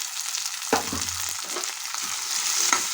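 Beans, capsicum, potato and carrot pieces fry in a pan for vegetable rice, a steady hiss with a few knocks and stirring scrapes, one low thud early on.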